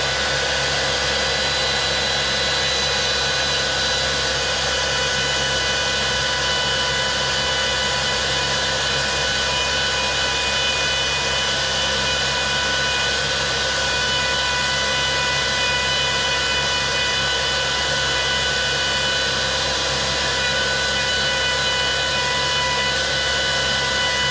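A power tool cuts a test rebate into a piece of scrap wood, giving a loud, steady whining roar with a constant pitch that runs unbroken throughout, close up and with no one talking.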